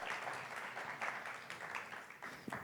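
An audience at a music forum panel in Medellín gives a round of applause, a steady dense patter of many hands clapping at moderate distance, with a few louder claps near the end.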